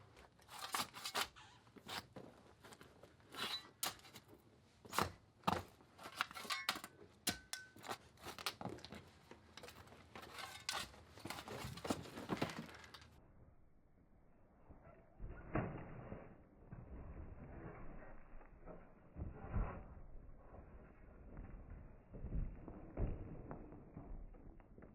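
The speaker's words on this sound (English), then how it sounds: "Let's start digging." Gloved hands dig into loose dirt hunting for rats, with repeated close scraping, crunching and thudding scoops in irregular bursts, louder and brighter at first, then duller and muffled for the remainder.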